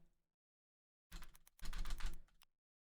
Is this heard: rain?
no